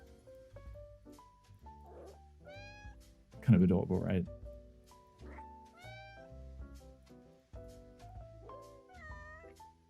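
A cartoonish cat in the life-simulation game inZOI lets out several short, bright meows and yips among holiday-themed game music, with one louder burst midway, while someone talks over it casually.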